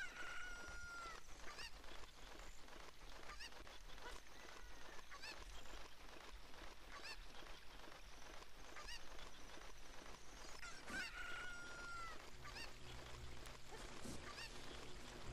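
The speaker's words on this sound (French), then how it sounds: "Ah oui, le poulet, viens là poulet." Chickens cluck and squawk in Zelda: Ocarina of Time, repeated short calls scattered over a low steady game background, faint and continuous without speech.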